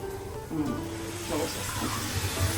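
Tamarind water is poured into a crab curry in a cooking pot, giving a soft, steady splashing hiss under a faint murmur of speech.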